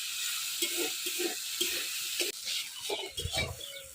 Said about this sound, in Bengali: এবার ভালো করে ভাজবে